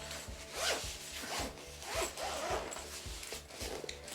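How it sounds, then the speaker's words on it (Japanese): The middle zipper of a large L-size suitcase is pulled open in several rasping strokes, close and loud, with the rhythmic teeth-clicking drag of the slider and no talking. "まずこの真ん中のファスナーを開けます。"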